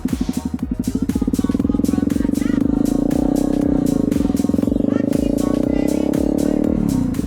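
A Honda CRF250L motorcycle accelerates in a parking lot, its engine note climbing and then holding a loud, steady drone close by before the throttle eases off near the end.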